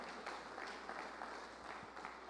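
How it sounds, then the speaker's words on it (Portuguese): Church congregation applause at an evening service, a faint, even patter of many hands clapping continuously without talk. "As palmas para Ele."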